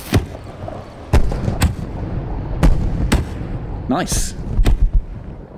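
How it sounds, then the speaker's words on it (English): Fireworks going off outdoors with several sharp bangs and cracks, one rising whistle near the end, and people talking and reacting in between. "Fireworks."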